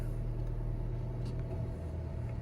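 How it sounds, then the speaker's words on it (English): A 2019-2025 Volvo XC40 idles steadily just after start-up, its low engine rumble continuous and even throughout, heard up close from inside the cabin with no talking. "Start it up. Okay, car started up."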